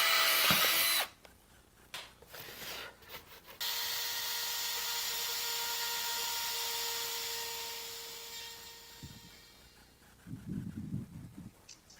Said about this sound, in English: I'm going to drill a hole at the top and the bottom of each one of these slots